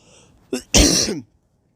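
A single close, short cough or throat-clearing burst, preceded by a faint breathy sound, then silence.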